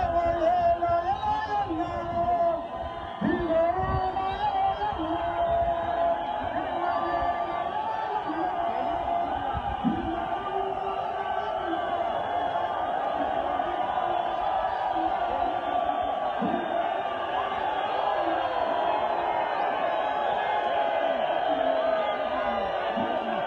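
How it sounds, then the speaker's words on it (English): Thousands of Triple C supporters cheer and shout for Nelson Chamisa as he arrives at a Zimbabwean by-election rally. A steady roar of crowd voices runs throughout, with occasional whoops rising out of the dense babble. "the thousands of Triple C supporters cheering on their leader Nelson Chamisa as he arrived"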